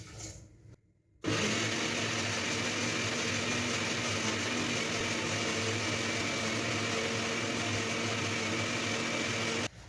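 A blender whirs loud and steady as it mixes a homemade vegan apricot yogurt mixture with added water. It kicks in abruptly after a brief pause and drones without a break until it shuts off.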